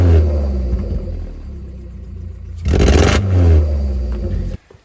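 A straight-piped MK4 Golf 1.4 engine rumbles loudly up close, then revs hard in a sharp burst with crackling backfire pops before cutting out abruptly.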